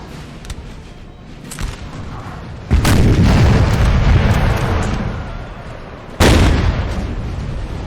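Artillery fires canister shot in a Napoleon Total War battle: two heavy booms roughly three seconds apart, each a loud broad blast that rolls on and slowly fades, over a lighter crackle of distant battle.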